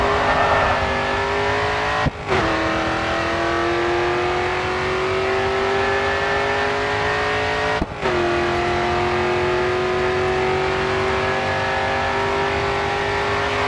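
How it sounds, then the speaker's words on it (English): A race car in GRID 2 runs at full throttle, a loud, steady, close engine whine held high and sustained, broken twice by abrupt gear shifts, with no talk. "full throttle now, coming onto the final straight"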